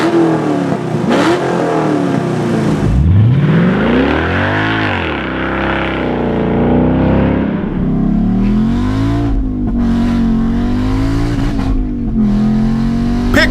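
A 451 cubic inch big-block Chevy V8 fitted with QuickTime Performance electric exhaust cutouts revs loudly and up close, climbing in pitch through several throttle blips and settling into a rough, rumbling idle between pulls.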